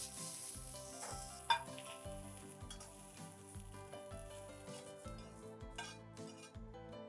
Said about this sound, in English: Let's toss all of this, and with this, off goes the flame for now.